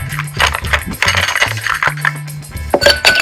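Several ice cubes dropped one after another into a glass of lavender lemonade, giving clear clinks and knocks in an irregular rhythm, close up, with some faint talk underneath.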